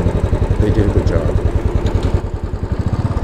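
A motorcycle engine chugs close by in fast, regular pulses, loud and steady throughout as if recorded while riding.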